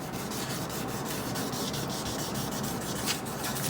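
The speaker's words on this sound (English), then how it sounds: "Maybe a little sanding." Sandpaper rubs over the polyurethane finish of a cheap guitar body in quick, close back-and-forth strokes, making a continuous gritty scratching sound with no talking.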